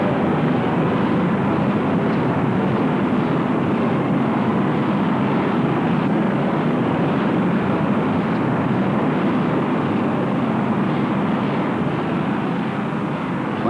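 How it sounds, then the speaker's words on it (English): Apollo 10 Saturn V rocket lifting off, a loud, steady roar of thrust holding without a break from start to finish, dense and rumbling, with no voices over it. "Seconds and 280 tons of fuel later, the rocket cleared the pad."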